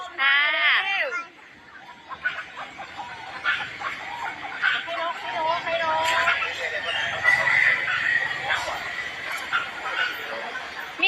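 Chickens clucking and a rooster crowing at a zoo aviary, close and fairly loud, with a dog barking and people talking excitedly over the birds throughout.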